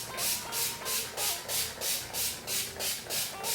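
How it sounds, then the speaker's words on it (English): A hydrating, cooling makeup mist sprays onto a face in about nine short, evenly spaced hissing bursts, close and fairly quiet, with no talking. "Go ahead and spray it first so it doesn't like spit on your face"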